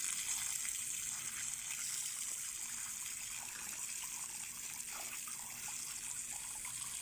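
Water gushes steadily to wash soil off the roots of a Tiger Bark Ficus bonsai, a constant close rush of spray and splashing with no talking.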